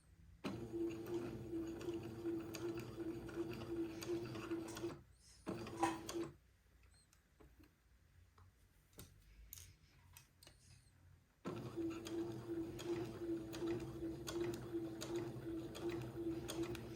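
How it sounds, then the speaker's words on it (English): A sewing machine stitching the curved neckband of a baby day gown runs in steady, even mechanical whirring bursts, stopping for several seconds in the middle before starting up again; close and fairly quiet. "I'm going slow because this is a little curve and I want the neckband to stay flat, so I'm easing it as I sew."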